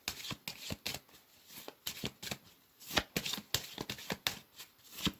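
Tarot cards being shuffled by hand during a full moon reading, a close, crisp run of riffling, slapping card sounds in an uneven rhythm, with no talking.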